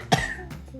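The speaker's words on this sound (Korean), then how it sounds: "기침을 많이 하시네요, 오늘." A single sharp cough bursts out at once, with a short rasping tail and quieter throat noise trailing after it.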